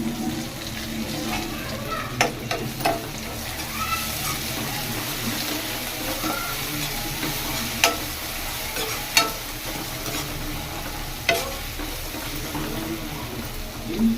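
Raw banana curry with coriander fries quietly in a pan, a low steady sizzle broken by occasional sharp clicks and scrapes of a spoon stirring.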